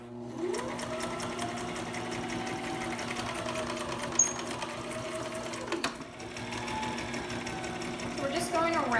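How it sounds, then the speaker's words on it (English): A sewing machine stitches a seam on a fabric face mask, its steady mechanical whir running continuously with brief pauses and clicks, while a person talks over it. "So we're just going around and making our seam"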